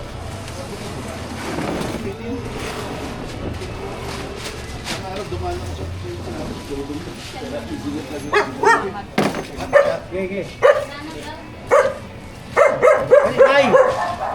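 Dogs bark and yip in short, loud bursts toward the end, mixed with whimpering, over steady outdoor background noise while a person talks.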